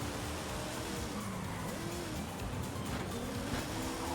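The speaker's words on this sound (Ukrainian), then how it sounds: "Ой, вона боком роздає, я не очікував в неї" An old Ford drifting sideways in Forza Horizon 5, with a steady engine drone and hissing tire scrub running unbroken and fairly quiet throughout, with no talk.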